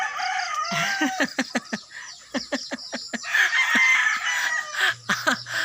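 Chickens cluck in quick bursts and a rooster crows, with lively farmyard calls close by and continuing throughout.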